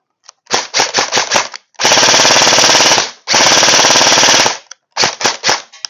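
Golden Eagle M16A1 Vietnam-style electric airsoft BB gun firing close up: several rapid single shots, two sustained full-auto bursts of about a second each, then a few more single shots, loud and with no talking.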